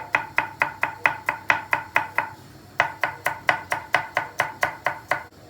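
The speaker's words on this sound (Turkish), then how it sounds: "Önce işe e, havuçlarımızı doğrayarak başlayacağız. Havuçlarımızı ince doğrayacağız." A knife finely chopping carrots on a board in a fast, even rhythm, about a dozen crisp cuts, a short pause, then another steady run of cuts.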